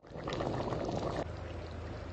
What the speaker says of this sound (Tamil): இந்த கரம் மசாலா பொடிய தண்ணியில கலக்கி ஊத்துறது